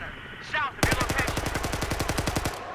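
Rapid automatic gunfire in Battlefield 4: a loud close burst of about twenty evenly spaced shots lasting nearly two seconds, preceded by a brief whoosh.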